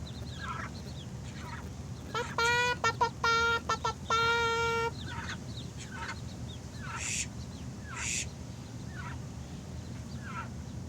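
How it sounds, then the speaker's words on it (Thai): Fluffy, roughly four-day-old foreign-breed ducklings call with a quick burst of repeated peeping and several scattered sharp chirps, close and moderately loud over a quiet background. "วันนี้แตงโมก็พา ท่านผู้ชมมาดูลูกเป็ด"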